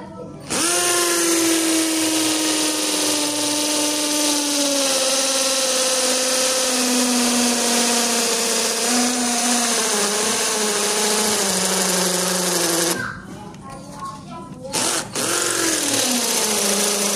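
A cordless XTITAN 21V brushed 13 mm drill in hammer mode with a 10 mm bit boring into a cast concrete pole, a loud sustained whining rattle that sags in pitch, cuts out briefly, then revs again near the end.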